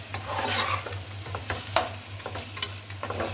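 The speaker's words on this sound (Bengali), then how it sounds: "আদা বাটা এটা এখন ভালো করে কষিয়ে নিব মশলাটা যত কষাবেন মশলাটা তত" Ginger and garlic paste with spice masala sizzles and fries in a hot pan while a spoon stirs it, scraping several times against the metal over a steady crackle. Close up, with no talking.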